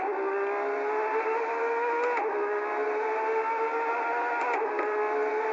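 A race car on brand-new tires, a high-downforce machine, holds a steady buzzing engine note under throttle, its pitch wavering with two brief dips as gears change, close and continuous with no talk.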